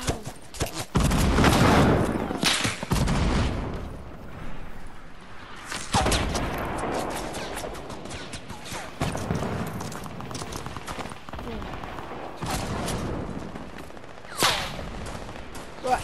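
Light machine gun fire in a video game, repeated loud bursts of rapid shots separated by short pauses, with no talk over them.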